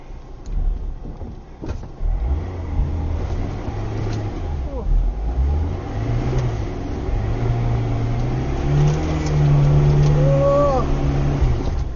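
A jeep labouring up a steep slope, its engine droning and revving in rising and falling surges as the tyres spin and burn, loud and close, with voices speaking over it.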